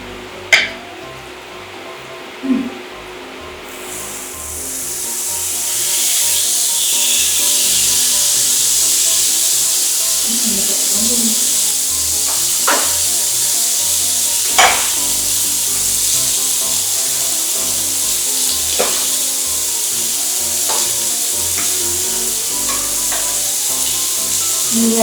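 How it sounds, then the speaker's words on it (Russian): Sirloin beef frying in a pan with mushrooms at home, a steady close sizzle that swells after a few seconds and continues with occasional sharp pops and scraping clicks, no talking. "Я буду жарить дальше."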